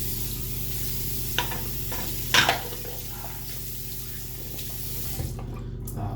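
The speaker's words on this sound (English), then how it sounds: "I'm gonna show you my lathering process again" A Simpson Chubby 2 synthetic brush lathering Noble Otter Plunder shaving soap: a soft, continuous wet swishing with a couple of brief louder squelches, faint and close.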